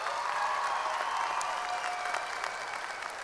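Commencement crowd at Bergen Community College breaks into steady, moderately distant applause that holds evenly across the moment.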